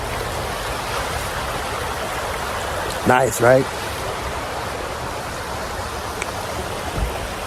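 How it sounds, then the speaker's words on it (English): A small river runs beside a rest stop in Tillamook, Oregon, a constant broad rushing flow close by, with a brief spoken remark breaking over it midway. "there's a nice little river running right here"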